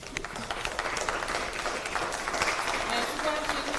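Applause from a party caucus audience for the presidential candidate after his speech, a steady dense wash of clapping that holds throughout, with murmuring voices mixed in.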